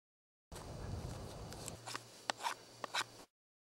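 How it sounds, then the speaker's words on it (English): Close rasping strokes of a hand-held blade carving a relief angle into wood, followed by several sharp little clicks and scrapes over a faint low hum. "I'm just carving the little relief or a little angle here."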